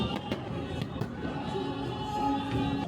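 Cannons fire in a staged battle show at a Kaifeng theme park, with several sharp booming blasts in quick succession over a murmuring crowd.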